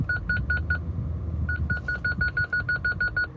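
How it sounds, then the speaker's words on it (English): A series of short, evenly spaced electronic parking sensor beeps from a 2003 BMW E39 M5, a quick run of four, a pause, then a longer steady train of beeps, loud and close. "and then you hear the beep"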